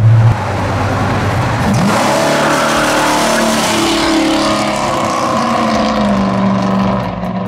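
A 600 hp big-block 1976 Buick Electra custom runs with a loud, steady engine note that swells and holds throughout, close to the listener, with no talking over it.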